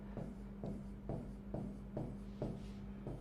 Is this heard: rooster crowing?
no